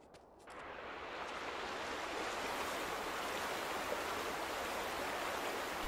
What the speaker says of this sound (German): Ist das Wasser nicht mehr ganz so stark?